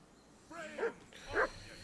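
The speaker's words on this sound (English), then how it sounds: "Get that mutt of yours to stop barking" A dog in the video game Kingdom Come: Deliverance 2 barks twice, short and fairly quiet, about half a second apart over a soft background hum.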